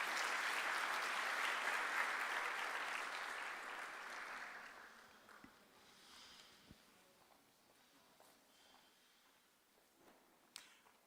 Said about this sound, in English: Can we please clap hands for her as she leaves?